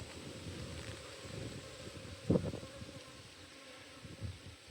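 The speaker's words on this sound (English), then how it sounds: "Just killed a bee and now they're all pissed off." Dense, steady buzzing of agitated honeybees swarming around open hive frames, close to the microphone, with light rustling and a few louder handling bumps.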